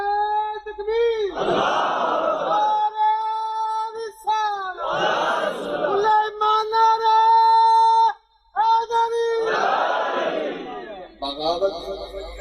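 A crowd at a Punjabi religious kalam recital shouts the Takbir slogan in three loud, reverberant bursts of massed voices. Brief pauses separate each call-and-response.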